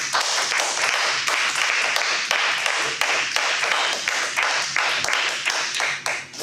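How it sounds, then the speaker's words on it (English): An audience at a Toastmasters club meeting claps continuously to welcome the evening's Toastmaster, a dense, even round of applause with no pause and no talk over it. "Now here's the opportunity to practice the clapping that we know"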